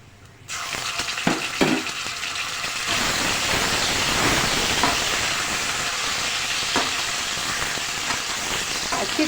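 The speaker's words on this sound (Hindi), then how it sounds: "अच्छी तरह हमने लहसुन अदरक के पेस्ट को फ्राई कर लेना है" Garlic ginger paste hits a pan of fried onions with a sudden loud hiss, then sizzles steadily and strongly, with occasional stirring clatter near the start.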